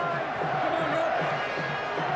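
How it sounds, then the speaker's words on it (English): A large stadium crowd at the 2004 rugby league Super League Grand Final between Leeds Rhinos and Bradford Bulls roars continuously in a dense, steady wash, with a commentator talking over it. "Listen to this crowd."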